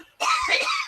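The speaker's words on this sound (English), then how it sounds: "Coughing." A person coughs in a single loud, harsh burst lasting most of a second, close by and with no talk over it.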